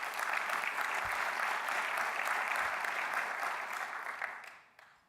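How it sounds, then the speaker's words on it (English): Sustained audience applause at a business plan competition, steady and dense for most of the stretch, then thinning and fading out near the end. "Let's give a round of applause for Frank."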